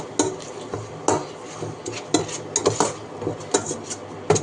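Chili powder, cumin powder and spices being stirred in a pan for a sweet-sour dried jujube pickle: repeated scraping and clinking strokes of a spoon against metal in an uneven rhythm, close and fairly loud, with only a faint sizzle.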